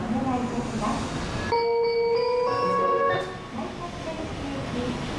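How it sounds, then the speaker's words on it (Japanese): A last train to Tokyo rolls into platform 2 at Maihama Station with rumbling wheels, and a chime-like tonal signal rings briefly midway before the steady rail noise resumes. "まもなく2番線に東京行き最終電車が到着します。"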